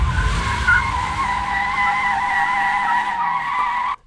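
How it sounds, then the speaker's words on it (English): Loud, sustained screech of car tires skidding, a steady high-pitched squeal over a low engine rumble for about four seconds before cutting off. "You know there should be some screeching tires."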